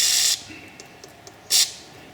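Liquid Wrench penetrating oil sprayed onto a stubborn bolt on a Dodge Grand Caravan 3.6 V6, two short close aerosol bursts of hissing spray separated by faint clicks.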